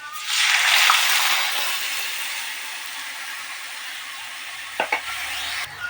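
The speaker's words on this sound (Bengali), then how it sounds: "পেঁয়াজগুলোকে একটু নেড়ে ছেড়ে এর মধ্যে আমি চিংড়ি মাছের মাথাটা দিয়ে দেব" Prawn heads frying with browned onions in a pan, a steady broad sizzle loudest at the start and easing off, with a few soft stirring scrapes near the end.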